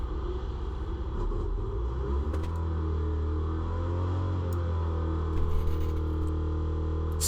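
Citroën 2CV race car engine idling on the grid before a race start, a close low rumble whose pitch rises and steadies as the revs build and hold, with faint clicks near the end.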